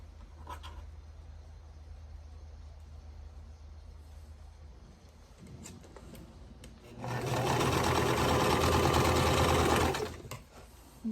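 A sewing machine stitches quilt block pieces for a calico bird quilt, running in one loud, steady burst of about three seconds after quieter handling noise.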